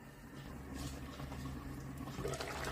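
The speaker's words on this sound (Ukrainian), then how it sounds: "Ось так вона кипить." Water bubbles steadily at a low simmer as potatoes boil in a covered pot, a soft continuous churning and gurgling with faint patter, close by and fairly quiet.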